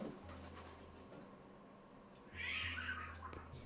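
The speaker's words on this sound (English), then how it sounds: "It's two cats having a fight outside." Two cats fighting outdoors, heard from indoors as a burst of yowling about halfway through, over a steady low hum.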